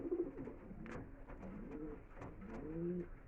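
A pair of green Madras flying pigeons coo in several soft, low rolling phrases, close by with faint background noise.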